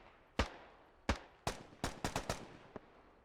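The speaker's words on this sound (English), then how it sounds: "you can hear those new AK sounds, actually" AK rifle fire in the military shooter Squad during a Marine Corps amphibious assault: about eight sharp single shots, spaced irregularly and coming closer together toward the end, moderately loud with a slight distance to them and no talk.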